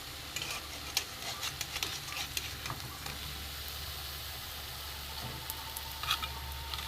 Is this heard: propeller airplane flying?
no